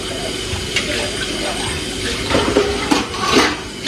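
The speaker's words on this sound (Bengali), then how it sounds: "বাসন টাসন ধুয়ে নিচ্ছি" Dishes washed under running water in a home kitchen sink, with a steady splash of the tap and occasional clatter of utensils, and voices murmuring faintly in the background.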